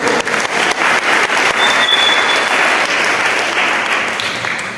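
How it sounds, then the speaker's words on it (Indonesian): A church congregation claps for Jesus during a Sunday worship sermon, a dense, sustained burst of applause filling the room for about five seconds before tapering slightly at the end. "Tepuk tangan untuk Tuhan Yesus."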